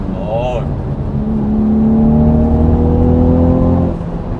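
A Hyundai Veloster 1.6T turbo with a manual gearbox runs in dynamic engine-sound mode, a loud steady engine drone holding a smooth, rising tone, with a brief chime near the start.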